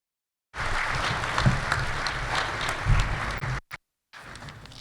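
An audience at an aviation hall of fame ceremony applauds steadily and fairly loudly, a dense wash of clapping that cuts off briefly near the end before resuming.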